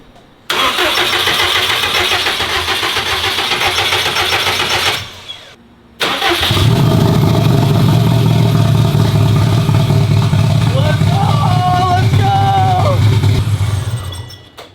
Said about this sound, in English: We just wanted to see if the engine would fire.